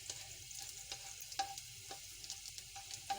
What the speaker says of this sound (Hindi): जरा सा मैं इसको फ्राई करूंगी, लहसुन को गोल्डन, हल्का सा गोल्डन कलर दूंगी मैं इसे।